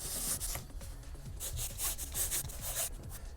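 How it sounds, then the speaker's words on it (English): Sanding down a homemade Boba Fett armor piece to remove a surface pattern: steady, close abrasive rubbing in repeated back-and-forth strokes, with no talk. "you don't want to sand this down too thin, but you do want to get this pattern off of here"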